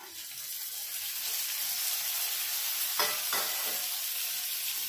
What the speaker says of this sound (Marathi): कांदा बऱ्यापैकी लाल झालाय, आता आपण टोमॅटो टाकून घेऊया